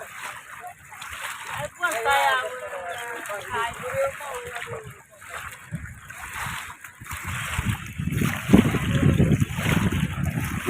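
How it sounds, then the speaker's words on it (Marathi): Sea waves foam and splash along a beach in Goa, a broad continuous wash of surf that swells louder toward the end, with people talking over it throughout. "लाटानं कसा फेस येतोय हो."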